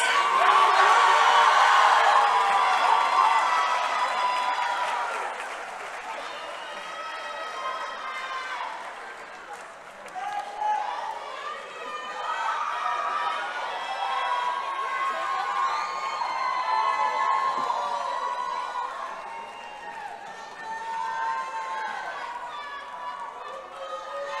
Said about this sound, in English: can we give class of 2024 a big round of applause?